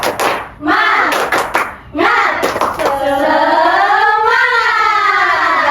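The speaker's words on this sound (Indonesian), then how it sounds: "Tepuk semangat." A school class doing a rhythmic spirit clap, tepuk semangat, with sharp group claps in short patterned bursts followed by children's voices chanting together, loud and close in a classroom.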